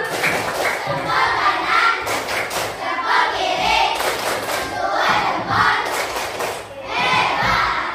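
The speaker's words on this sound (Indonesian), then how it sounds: "Tepuk jempol." Schoolchildren perform a tepuk jempol rhythmic clapping chant, a loud, continuous group chorus of shouted chanting with thudding claps in a steady beat, close by, throughout.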